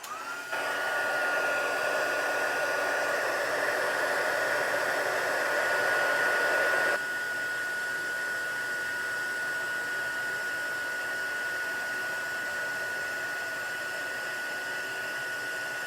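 A heat tool blows hot air to melt silver embossing powder, giving a loud, steady, close whoosh that drops to a quieter, even hiss partway through and continues alone.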